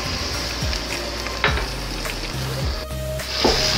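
Ginger garlic paste sizzling in a hot pan while a utensil stirs and scrapes it, a steady close crackle broken by a few sharp scraping knocks.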